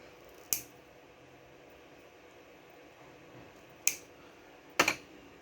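Scissors cut through a 2 mm thermal pad while it is being fitted to an MSI graphics card for mining, giving three short crisp snips spread over a few seconds against a quiet hiss.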